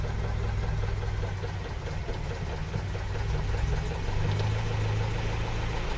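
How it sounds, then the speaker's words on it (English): A Land Rover Series diesel engine idles steadily with a low, even rumble and faint ticking, heard from close by without any talking. "I can already hear the difference in the front just with it ticking over."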